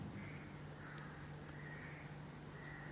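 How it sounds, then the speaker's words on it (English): Faint birdsong drifts in from far away, a few soft chirping phrases over a steady low hum of background noise. "you can hear the birds singing at a distance"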